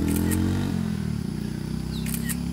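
A motorcycle engine idles and revs at close range on Gunung Pulai, a loud, steady low rumble with its pitch shifting partway through, plus a few brief clicks over it.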